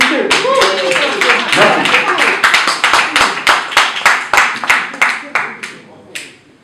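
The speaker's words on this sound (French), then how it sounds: "Il va applaudir. Applaudissez." Applause at a press conference starts as a crowd clapping with voices mixed in, then thins into a smaller group of distinct, rhythmic handclaps that slowly fade out; a brief spoken word follows.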